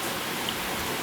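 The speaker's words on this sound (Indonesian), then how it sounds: "ini Bapak lagi di luar, lagi hujan ini ya" Steady outdoor rain hisses evenly as a broad wash of noise, moderately loud and continuous, with no voices over it.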